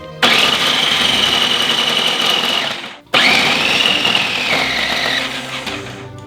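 A food processor grates cheese, its motor whining loudly and steadily, briefly cutting out about halfway before starting again and running on, the pitch dipping as the cheese is fed through.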